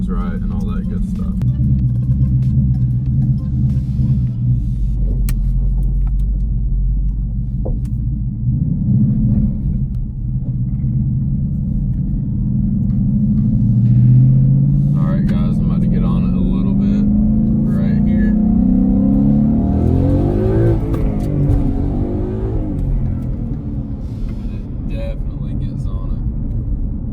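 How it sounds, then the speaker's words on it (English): A rebuilt, previously wrecked 2017 Ford Mustang GT V8 rumbles low and steady on its first test drive, with engine tone rising and falling through gear changes as someone talks over it. "this is going to be the first test drive right here"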